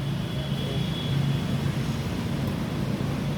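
An airplane near the Kolkata runway heard from a rooftop, a steady broad roaring drone with a faint high whine running through it, continuous with no talk.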